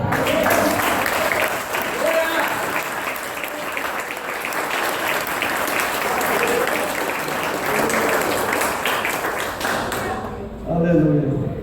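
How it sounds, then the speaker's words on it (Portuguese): Church congregation applauding at a communion service, sustained dense clapping over about ten seconds that fades near the end as a voice and other sounds emerge. "dê um aplauso ao Senhor."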